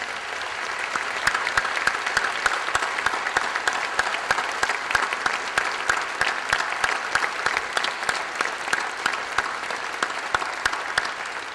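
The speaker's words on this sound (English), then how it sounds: "give them a big round of applause" A ceremony audience at a college of health professions white coat event applauds the faculty in steady, sustained clapping that stays even and moderately loud throughout, with no talking over it.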